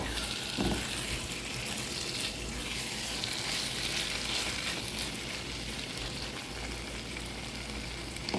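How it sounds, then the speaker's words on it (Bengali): Taro stems and hilsa fish frying in oil give a dense, steady sizzle, moderately loud and close, with occasional stirring and spatula knocks. "কচুটা আমি মাছের সাথে ভালো করে ভাজা ভাজা করে নিয়ে একদম ভাজা ভাজা করে নিব যাতে উপরে তেল উঠে আসে"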